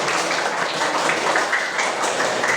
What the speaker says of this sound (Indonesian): Ya, tepuk tangan buat Kenza